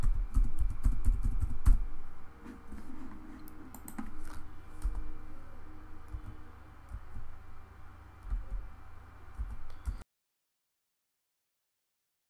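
Someone types a mobile number on a computer keyboard, with a quick run of close clicks that is denser at the start and grows sparser, then stops into silence.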